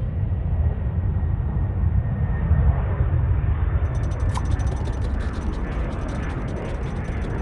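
A propeller airplane engine drones steadily and loudly throughout, a dense low rumble with a faint mechanical whine, and a sparse metallic clicking joins in the second half.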